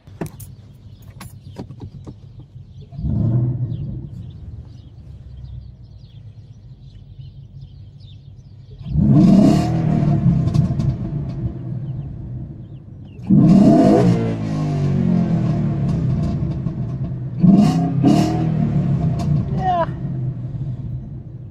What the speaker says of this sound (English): Sounds like a 5-liter